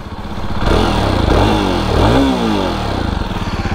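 A Jawa Perak 350 motorcycle engine cranks and catches, then settles into a steady, loud, close idle with a throbbing low rhythm and slight revs.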